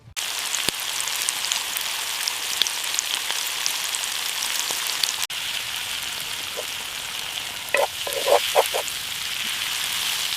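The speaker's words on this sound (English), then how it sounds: "We're going straight in with the ground beef. Listen to that sizzle." Ground beef sizzles loudly in a pan over a campfire outdoors, a steady dense crackle throughout with a few sharper pops and clicks near the end.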